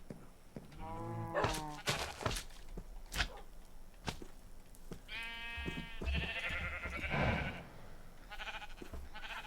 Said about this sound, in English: Don't need more sheep, that's fine.